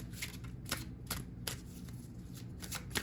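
A deck of oracle cards shuffled by hand, a close, steady run of crisp riffling snaps repeating roughly every half second over a soft background hum, with no talking.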